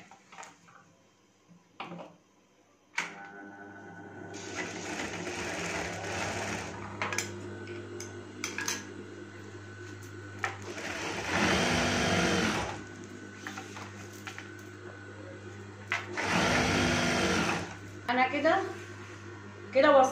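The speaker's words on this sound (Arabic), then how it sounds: "كده وصلت الجنبين الاتنين مع بعض اهوت، خياطة واوفر" Overlock sewing machine stitching and overcasting the two joined side edges of curtain fabric, its rapid whirring hum starting and stopping in several long runs, close by, with a person speaking between and over the bursts.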